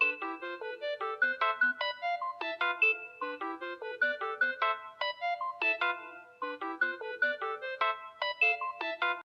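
Bright electronic MIDI composition played back in a phone music app, a busy, steady run of plucky synthetic notes in a quick, bouncing melody with no voices.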